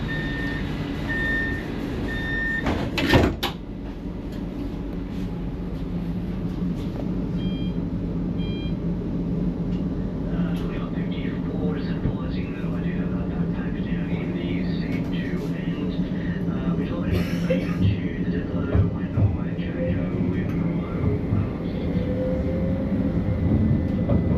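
Newcastle Light Rail tram running, a steady rumbling ride heard from inside, with a few short warning beeps near the start and a sharp clunk, then a continuous low hum of motion.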